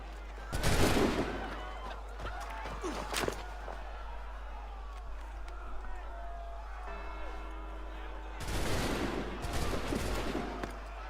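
Musket volley from soldiers in Assassin's Creed 3, a loud burst of near-simultaneous shots early on, another report shortly after, then a second heavy burst of fire near the end over ongoing game ambience.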